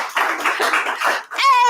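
Applause at an Arizona NORML meeting for the Arizona Supreme Court: a short burst of crowd clapping lasting about a second, ending abruptly as a voice starts speaking.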